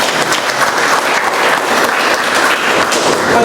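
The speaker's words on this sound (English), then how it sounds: "A big round of applause." Audience at a Toastmasters meeting in Bombay breaks into a big round of applause, dense steady clapping from a room of people, loud and continuous throughout.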